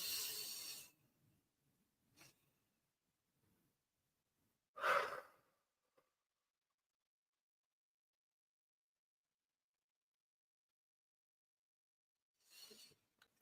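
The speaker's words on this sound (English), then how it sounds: "So breathe in." Deep breaths during a guided breathing exercise: a long soft inhale at the start, then a brief faint breath and one clear exhale midway, with a last quiet breath near the end, separated by long silences.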